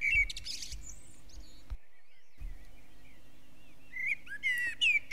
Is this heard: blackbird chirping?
yes